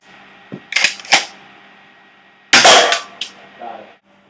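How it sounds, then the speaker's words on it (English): Shotgun firing in a gun test against cans, loud sharp cracks and bangs heard one after another, with a heavy blast later followed by shorter clattering echoes and then quiet. "shotgun."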